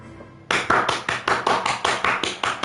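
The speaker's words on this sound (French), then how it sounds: "Une vague d'applaudissements pour la Pitalie." Rhythmic clapping salutes a football team before a match, about nine evenly spaced loud claps following a short quiet lead-in, close and without talk.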